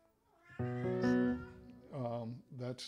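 A cat meows close up: one long drawn-out meow followed by two shorter ones.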